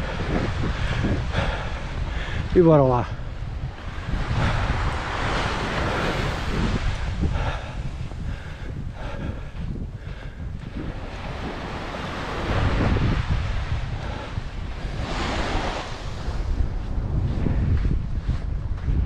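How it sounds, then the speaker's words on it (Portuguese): Strong headwind buffeting the microphone on a ride along the coast from Comporta to Tróia, loud continuous roaring gusts that swell and ease, with a man's brief spoken remark early on. "está vento contra, como acontece sempre nestas situações. O vento nunca ajuda."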